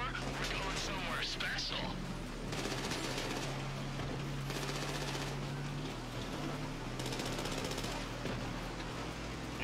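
Bursts of automatic gunfire in Grand Theft Auto V Online, repeated in several rapid volleys over a steady background rumble, with talking mixed in.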